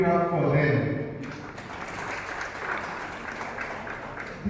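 Audience applause at a diocesan health assembly in Masaka, Uganda: a broad, sustained wash of clapping from a large crowd, following a speaking voice at the start and continuing steadily to the end.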